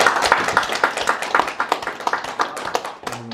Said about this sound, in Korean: 뜨거운 박수 한번 보내주시기 바랍니다